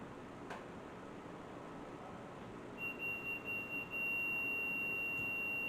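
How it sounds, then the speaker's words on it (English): An oven timer beeps in a kitchen, a thin steady electronic tone that starts partway through and holds over a low background hum, fairly faint at first and then louder near the end. "There's my oven timer"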